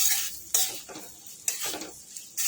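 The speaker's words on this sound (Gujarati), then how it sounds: "1 ચમચી ગરમ મસાલો એડ કરીશું અને સરસ બધું મિક્સ કરી દઈશું." A spoon stirs garam masala and chili powder through kankoda (spiny gourd) sabji in a pan, giving several scraping, clinking strokes with a soft sizzle between them, close and fairly quiet.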